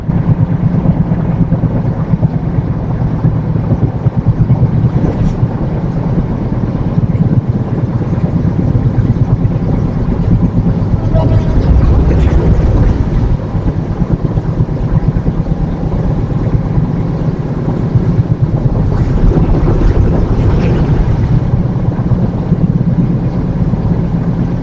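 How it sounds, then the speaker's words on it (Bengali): Ruposhi Bangla Express train running at high speed, a loud continuous roar of wheels and rushing wind buffeting the microphone, with steady low rumble throughout and no voices. "ট্রেন কিন্তু প্রচুর পরিমাণে স্পিডে ছুটে চলছে।"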